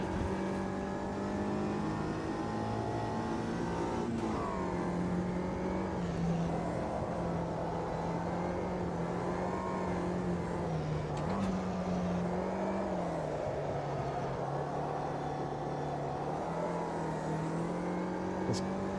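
Race car engine in the Automobilista 2 racing sim, a continuous close drone rising and falling as the throttle is worked, with shifting revs and steady road noise.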